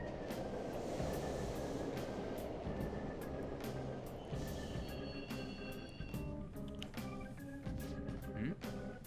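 A subway train in the video game Persona 5 rumbles in and screeches, with rattling clacks and sharp metallic squeals as it slows and stops, moderately quiet and steady.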